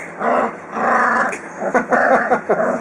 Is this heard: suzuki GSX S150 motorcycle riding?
no